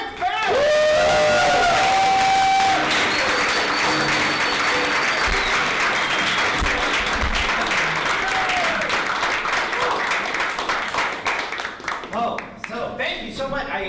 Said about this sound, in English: Ladies and gentlemen, a big round of applause for Mr. Chris Farrell!